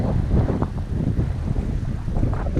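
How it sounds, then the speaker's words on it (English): Strong wind buffeting the microphone, a heavy low rumble that gusts and swells continuously with no voices. "Very, very windy."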